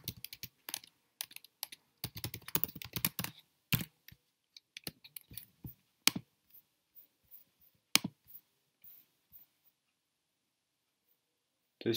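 Computer keyboard keys clatter in quick bursts of typing, with pauses between runs and isolated single taps, close and fairly quiet.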